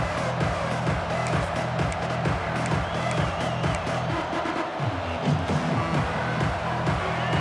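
A football stadium crowd cheers and roars in a steady, dense wash of noise, loud and continuous with no pauses, and faint clapping and whoops can be picked out within it.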